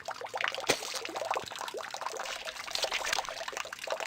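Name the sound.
bubbling and dripping liquid, from the video game Corpse Party: Blood Drive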